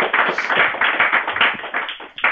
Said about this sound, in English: So if you guys can show them a round of applause, just say thank you for what you guys done today.